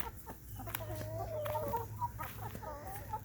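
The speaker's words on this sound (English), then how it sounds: "Chickens are making quick work of the things being pulled out of the garden." Backyard chickens cluck and murmur softly while pecking at pulled garden scraps on a hot day. The low, repeated calls sound close but quiet over faint background hum.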